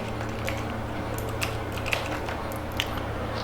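Soft, scattered keystrokes on a computer keyboard as an ip route command is entered while configuring static routing between three routers in Packet Tracer, a few sparse taps over a steady low hum and no talking.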